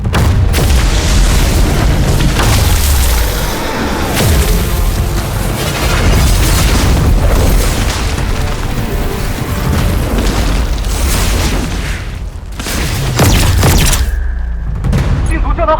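Booming explosions and rapid bursts of gunfire rage through an animated sci-fi space battle between spaceships, loud and nearly continuous, with a short lull before the blasts resume.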